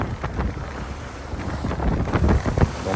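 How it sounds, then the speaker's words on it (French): A strong headwind of about 15 knots buffets the microphone on a sailboat heading into small waves at sea between Porquerolles and Stintino. Gusty roaring rises and falls, with irregular thumps of wind and water growing louder toward the end. "On a 15 nœuds de vent pleine face avec bonne petite vague."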